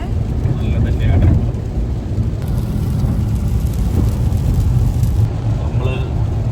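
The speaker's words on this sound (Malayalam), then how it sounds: "മഴയായതുകൊണ്ട് റോഡിലൊക്കെ നല്ല വെള്ളം." Heavy rain pelts a car driving along a flooded, slippery road, a constant loud wash of drumming and road spray with low engine rumble underneath and a brief hiss of passing water.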